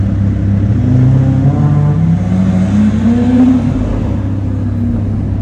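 Sports car fitted with a Gintani exhaust, a loud steady engine drone with rising and falling pitch as it downshifts and revs, continuous and close throughout.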